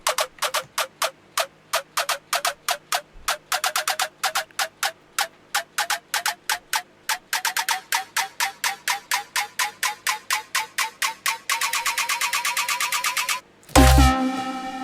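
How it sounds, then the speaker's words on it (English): Drum build-up from a Cymatics sample pack: evenly spaced sharp hits that gradually speed up into a dense, rapid roll, ending with a short low burst, loud and alone. "It's actually a build-up drums."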